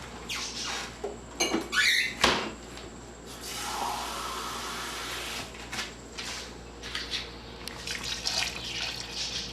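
Tap water runs and splashes into a pot for a ribs and beans soup in a home kitchen, with uneven pouring bursts, clinks and a longer steady stream, no talk.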